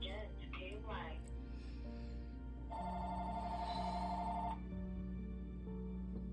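A telephone rings indoors for a couple of seconds, a steady bright electronic tone, with someone talking over it before and after the ring.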